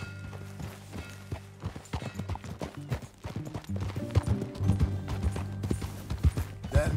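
Horse hooves clip-clop in a rhythmic walking gait in the game Red Dead Redemption 2, close and clear, growing heavier and more layered as a second horse seems to join.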